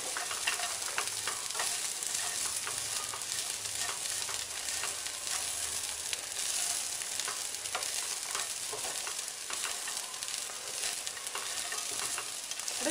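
Grated coconut and peanuts frying with ivy gourd in a pan, a continuous soft sizzle heard close up with faint stirring, no voices.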